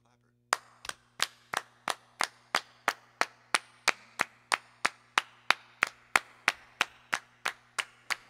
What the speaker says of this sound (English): the song starts with clapping